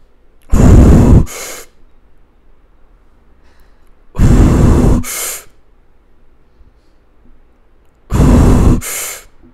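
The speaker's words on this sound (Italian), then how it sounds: "seguimi nel mentre che sto nuotando stile libero respirando ogni tre bracciate." Freestyle swimmer breathing once every three strokes: three loud, close breaths, each a quick double burst of exhale and gasping inhale, evenly spaced by a few seconds of near silence.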